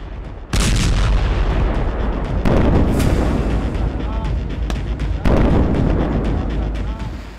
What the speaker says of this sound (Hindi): दिन के उजाले में लेबनान पर गिरी इजराइल की मिसाइल।